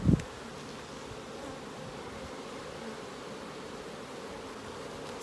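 Saskatraz honey bees hum steadily at an apiary hive, a continuous low drone from many insects close by, starting after a brief soft knock and holding level throughout.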